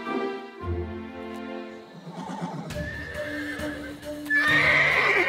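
A cartoon pony whinnies loudly, followed by a quick, rhythmic clip-clop of galloping hooves that grows stronger toward the end.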